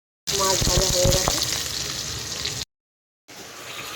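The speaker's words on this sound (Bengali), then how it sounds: "মাছ ভাজা হয়ে গেছে," Fish fries in a pan with a loud, continuous close sizzle and crackle that breaks off briefly, then returns more softly.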